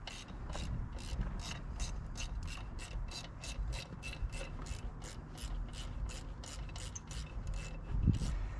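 A hand ratchet clicking rapidly as it loosens bolts on a turbo inlet pipe of a B9 S4/S5, a close, evenly spaced series of sharp metallic ticks, with a brief clunk near the end.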